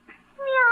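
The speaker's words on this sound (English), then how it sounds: "What are you doing with that cat?" A single cat meows once, close and clear, in a short rising-then-falling cry within a radio drama scene.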